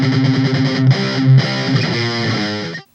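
Distorted electric guitar plays the slow, choppy rhythm part from a song, chugging chords that shift pitch over a few seconds and then cut off.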